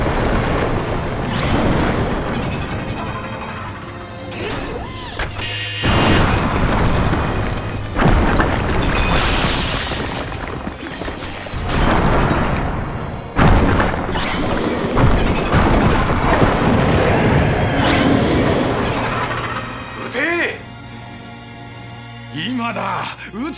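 Weapon fire and explosions in an Ultraman Z battle, with repeated heavy booms and crashes in bursts under urgent shouted voices and dramatic music.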